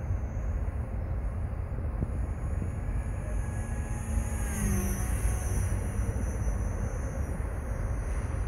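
An Align 470 RC helicopter flies outdoors, giving a steady, continuous whine and buzz over a broad wind-like rumble that holds constant for the whole stretch, with no talking.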